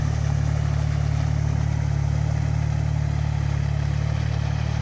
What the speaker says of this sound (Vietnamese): Máy nổ, nghe tiếng máy nổ rất êm.